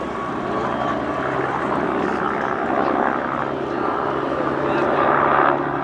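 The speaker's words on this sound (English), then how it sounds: "manned torpedo carrying helicopter" A Westland Wasp, a Royal Navy torpedo-carrying helicopter, flies at an air festival display with a steady rotor and engine drone, heard at a distance while people talk.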